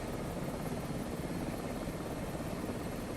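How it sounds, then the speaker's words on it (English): Steady, even helicopter engine and rotor drone from Microsoft Flight Simulator 2024 on a ski trip flight to Whistler, continuous and fairly quiet with no voices. "I'm just going to have to investigate my sound levels here for the engine sounds."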